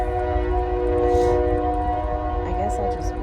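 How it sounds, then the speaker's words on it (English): A train passes close by with a long, steady horn blast holding over the rumble of the rail cars, loud and sustained in an outdoor garden setting. "Oh, be quiet, train."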